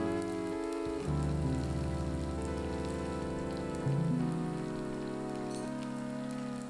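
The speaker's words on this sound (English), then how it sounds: "Bring the tofu sticks into the oil and let them fry for 1 minute" Tofu sticks fry in hot vegetable oil in a pan with a dense, steady sizzle like rain on a surface, running continuously under sustained tonal background music.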